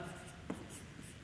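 Chalk or marker scratching across a board during a physics lesson on electrostatics and charging by induction, a faint continuous scraping with a brief sharper stroke midway, set against quiet room tone.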